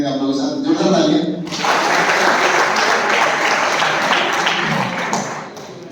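An audience at an exam-results speech event breaks into loud applause after a voice, the clapping swelling suddenly and holding steady before tapering off.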